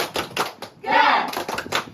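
Young Siaga scouts at a Pramuka ceremony perform a short rhythmic group clap, a few crisp clustered claps followed by a brief burst of children's voices, then more patterned clapping.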